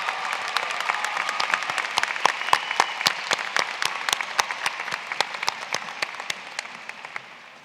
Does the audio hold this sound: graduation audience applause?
yes